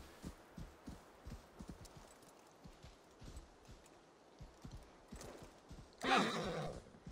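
In Assassin's Creed Valhalla, a horse's hooves clop in an uneven rhythm before a loud, close neigh bursts out near the end.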